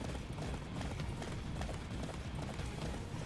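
A horse gallops in the Attack on Titan video game, a rapid, continuous drumming of hooves heard up close and fairly loud with no pauses.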